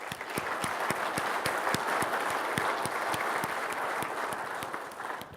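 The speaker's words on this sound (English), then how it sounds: "can we give them a big round of applause?" Audience applause at a company conference opening keynote, steady dense clapping from a crowd that holds evenly throughout and fades slightly at the end.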